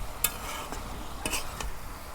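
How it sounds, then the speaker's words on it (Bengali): Shredded cabbage fries in a pan in a village kitchen while a utensil stirs it, giving a steady low sizzle broken by a few sharp scraping clinks, close and alone. "পানি দিম না, এনে পানি দিয়ে আমি পাতাকপি ভাজা নিব।"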